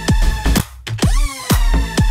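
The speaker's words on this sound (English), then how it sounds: "I think that needs a bit more beef, that Hoover sound" Hoover synth in a bass house track: thick, detuned lead stabs over punchy kicks in a steady four-on-the-floor rhythm, loud and alone, with a pitch-bending swoop in the middle.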